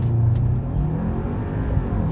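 An Audi car accelerating hard from a standstill in a 0-60 run, heard as a loud, close engine roar with a low rumble that stays steady throughout.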